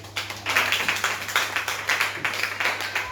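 A classroom audience claps for a pupil who gave the right answer, with steady, fairly close hand clapping that pulses unevenly for about three seconds, over a low constant hum and no talk.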